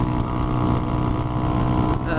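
A Sinnis Hoodlum motorcycle at speed through bends, its engine a steady, loud drone mixed with rushing wind, continuous throughout with no breaks.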